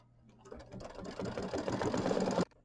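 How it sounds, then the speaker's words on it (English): An embroidery sewing machine stitches satin stitches on small turquoise quilt hearts, sounding as a fast, steady mechanical whir that starts softly, builds and runs continuously for about two seconds before cutting off abruptly, close and alone. "We're going to do the satin stitches on the first two hearts we did."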